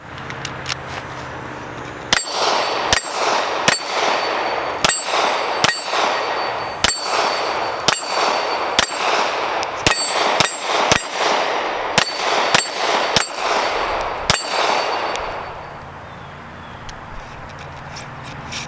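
A Smith & Wesson M&P 2.0 compact pistol fires a full magazine of practice full metal jacket ammunition at an outdoor range, with about fifteen sharp, loud reports spaced irregularly over roughly thirteen seconds before falling quiet.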